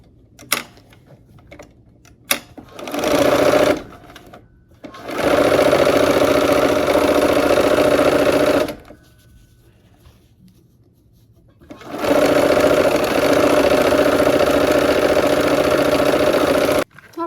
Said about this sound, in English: we got the last blocks that are ready to be sewn to these rows